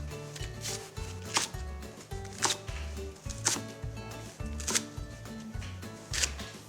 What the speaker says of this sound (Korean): 위쪽에 이렇게 썰고 대는 반으로 갈라 준비해 주세요.